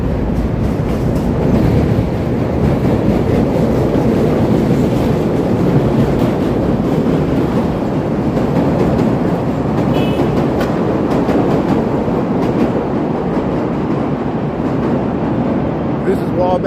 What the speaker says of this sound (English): the elevated train tracks that wrap around the loop of Chicago